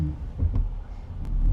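A Fab Fours truck, a radius-arm suspension build, rumbles as its engine takes a little gas while held on the brake, a brief low rev swell with no speech.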